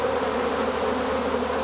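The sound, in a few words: swarming bees buzzing near hive box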